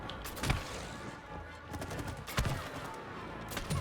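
Faint gunfire in the co-op video game It Takes Two during a bug battle: sharp bursts of shots, strongest near the start and again midway, over a busy, low background of game noise.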